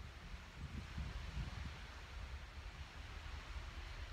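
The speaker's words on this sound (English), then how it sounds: "But as the waves get louder" Steady ocean surf mingles with rustling tree leaves in a continuous soft wash of noise, fairly faint and even throughout, with no voices.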